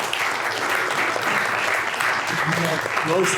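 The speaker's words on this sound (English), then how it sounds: "a huge round of applause for Andy, who answered all the questions." A conference audience gives Andy a steady round of applause, a dense, even wash of clapping that holds for the whole few seconds.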